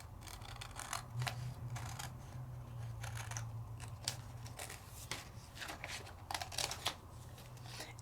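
Scissors snipping out a rub-on transfer design for papercraft, a series of soft, close cuts and papery rustles over a low steady hum, with no one talking.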